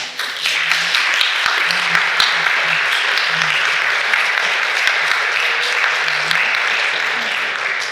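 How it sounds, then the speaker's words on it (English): Conference audience applause, loud, steady and sustained throughout, with many hands clapping together in a large room and a faint voice or two underneath. "So give yourselves a round of applause"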